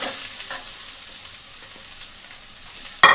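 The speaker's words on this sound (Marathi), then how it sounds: "आणि आता याच्यामध्ये आपण टाकून घेऊ पोहे" Poha, flattened rice, stirred in a pan over a low flame while cooking Satara-style poha: a steady soft sizzle and frying hiss with light stirring scrapes, close by and with no talk.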